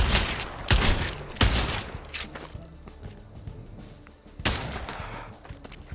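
Shotgun fire in the Pavlov VR video game: several sharp, loud blasts spaced irregularly, with quieter clatter and movement between shots and a further heavy blast later on.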